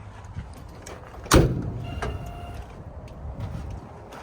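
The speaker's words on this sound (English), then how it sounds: "This truck makes all kinds of noises when you shut it off." A shut-off Peterbilt truck gives off a sharp mechanical clunk, followed by fainter clicks, whirs and hissing settling noises nearby, with no talk.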